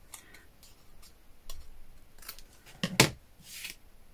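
Scissors cut paper for a handmade birthday card, making a scattering of small close snips and ticks and then one louder crisp cut with a papery swish, all fairly quiet.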